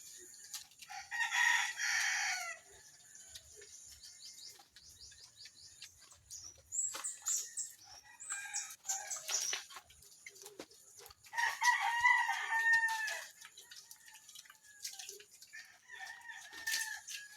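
A young, still-thin rooster tethered under a mango tree in a backyard crows several times, fairly close, with other clucks and bird calls around it and no talk over it.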